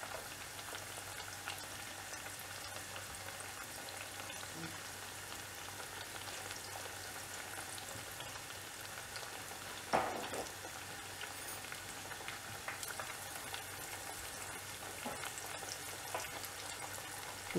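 Spring onion masala vadai fritters sizzle in hot oil, a faint, steady crackling fizz that continues alone throughout, with one brief louder clatter midway.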